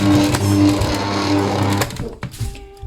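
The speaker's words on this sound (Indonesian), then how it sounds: "Ini kurang lebih udah 15 menit di mixer" An electric stand mixer kneads soft pumpkin bread dough with a loud, steady motor whir and rhythmic thumping, then winds down and stops near the end.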